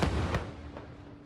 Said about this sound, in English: Bombardeo israelí contra una escuela en el centro de Gaza.